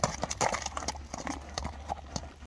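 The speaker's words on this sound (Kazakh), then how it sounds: "Кийинки атты алып чыгабыз эми." A horse's hooves clip-clop on a hard surface as it is led out, a quick irregular series of close, sharp knocks with some background noise.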